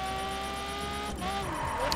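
Engine of a Lamborghini Aventador LP700-4 driven in the racing game The Crew: a steady, loud car drone held throughout, with a brief tire squeal and a pitch shift near the end.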